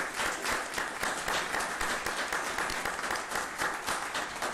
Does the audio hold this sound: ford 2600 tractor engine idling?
no